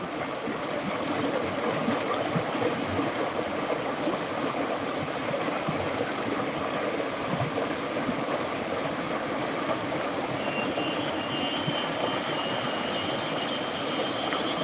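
A mountain river in flash flood after rain rushes in a loud, constant roar of churning water, steady throughout with no voices.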